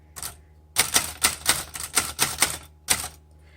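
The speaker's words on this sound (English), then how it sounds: "let's go ahead and do this again. Just a couple lines. The quick brown fox jumps over the" A 1935 Underwood Noiseless Portable typewriter types a short line in dull, muffled keystrokes: one isolated tap, then a steady run of evenly spaced strikes, a brief pause and a final tap, close and clear with no voices.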